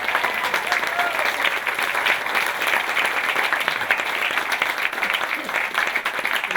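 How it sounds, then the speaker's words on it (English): A conference crowd applauds steadily and loudly, dense clapping filling the whole stretch without letting up. "Come on, guys, give yourselves a big round of applause."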